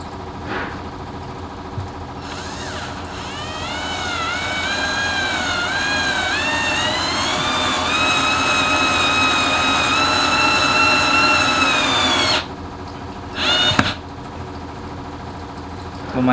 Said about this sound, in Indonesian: Kita akan coba untuk nyekrup pada kayu meranti.